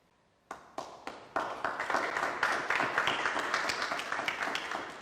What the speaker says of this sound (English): Can always count on a past colleague to begin the applause